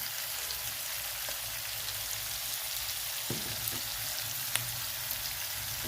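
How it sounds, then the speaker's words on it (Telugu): Onions browning in a pan for a potato biryani give off a steady, even sizzle with occasional small pops and crackles, close and fairly quiet, with no voices over it. "ఆనియన్స్ మంచి బ్రౌన్ కలర్లో ఫ్రై అవుతున్నాయి చూడండి."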